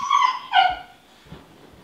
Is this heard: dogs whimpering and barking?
yes